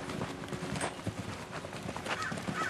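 Horse hooves beating out a canter during a ride on a young horse, a steady run of muffled clip-clop strikes heard fairly close over outdoor background noise.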